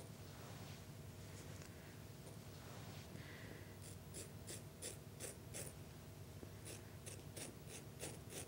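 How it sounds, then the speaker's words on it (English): Scissors snip through the rooted hair of a reborn baby doll, a soft rustle and shuffle first, then a rapid run of crisp, close cutting clicks in quick succession, no talking. "I like to cut the hair a little bit shorter up around the ears"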